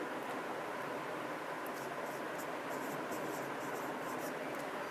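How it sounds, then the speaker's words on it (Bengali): A sentence being written on a board, a steady scratchy hiss of marker or chalk strokes running throughout with a few faint taps, heard alone without talk. "তো আমরা একটা সেন্টেন্স লিখি"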